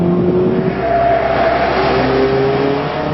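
A Mazda MX-5 with a small 1.5-litre engine revs hard while driving, its engine note steady and loud with rising harmonic whine, heard close from the cabin.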